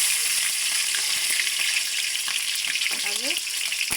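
Steady, loud sizzling of chilli, garlic and ginger frying in a hot pan, a continuous hiss with small pops and a few light scrapes of stirring.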